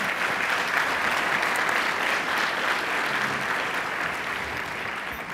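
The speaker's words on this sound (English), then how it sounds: "So let's all give them a round of applause" Continuous audience applause at a UC Berkeley energy symposium keynote, a broad, even wash of many hands clapping in a large room, steady and full without pause.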